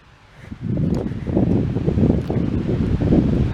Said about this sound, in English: you can just hear the tides, the waves on the shore